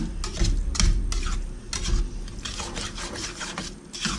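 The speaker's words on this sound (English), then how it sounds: "now give it all a stir" Ingredients for a 1960s-style beef stroganoff scraped and stirred around a hot pan, steady rasping strokes with a low sizzle underneath, close and fairly loud throughout.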